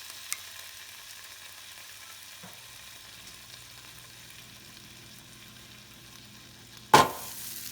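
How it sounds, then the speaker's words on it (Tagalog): Garlic lemon chicken legs fry with a faint, steady sizzle that continues under a quiet background, then a sharp clatter of cookware breaks in near the end. "It's being fried already."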